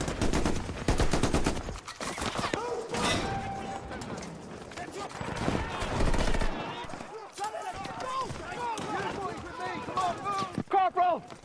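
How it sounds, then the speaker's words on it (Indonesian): Battle scene in a war film: rapid bursts of rifle and machine-gun fire crackle back and forth, mixed with shouting voices and movement. "Dan baku tembak pun terjadi."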